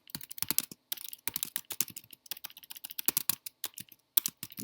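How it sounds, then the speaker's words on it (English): Rapid computer keyboard typing in irregular bursts with short pauses, close and clear, keys clattering alone without any talk over them. "I'm having a hard time typing this morning"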